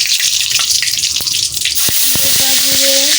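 Dry red chillies and whole spices hit hot oil in a pan, setting off a bright, crackling sizzle that swells and holds steady, with a few sharp pops and clinks of a utensil.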